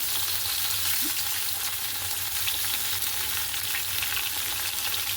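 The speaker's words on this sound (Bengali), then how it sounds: "এটা আস্তে আস্তে ভাজা হোক আস্তে করে দিলাম নুন হলুদ দিয়ে ভাজা করে নেব" Bitter gourd slices fry slowly in a pan with salt and turmeric, making a constant, even hiss of sizzling oil that holds steady from start to finish with no voices.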